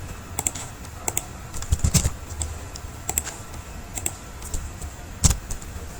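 Someone types Django Python code on a computer keyboard, giving close, crisp key clicks in uneven bursts with short pauses and a few harder strikes, with no talking.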